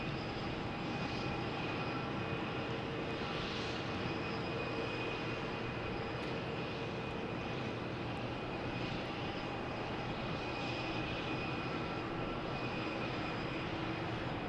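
JetBlue airliner arriving from Austin at Boston Logan Airport, a loud, continuous jet roar that holds evenly throughout, with no talking.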